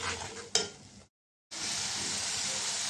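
Spice paste of chili powder, turmeric, salt and garlic paste for a rohu fish curry with potato and tomato sizzles loudly as it is stirred in hot oil, with one sharp clink early on and a brief silent break before the frying resumes.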